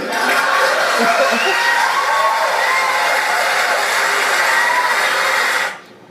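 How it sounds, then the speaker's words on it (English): Sustained roar of a crowd cheering and laughing during a Hillary Clinton speech, a dense continuous wash of voices that cuts off abruptly near the end. "the crowd is cheering and laughing at Donald Trump"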